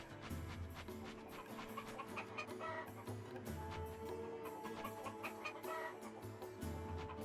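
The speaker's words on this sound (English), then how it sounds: "there's a chicken here, and I have no idea what the chicken's doing. It's just clucking at me." A chicken clucks in the video game Valkyrie Profile 2 on PS2, its repeated short clucks set against a busy game music backdrop, with no talking.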